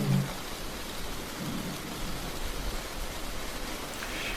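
Rain falls as a steady, soft hiss with no voices.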